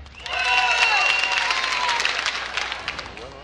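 Comedy club audience clapping to vote during an improv show, a loud burst of applause rising quickly and tapering off, with cheers and whoops mixed in.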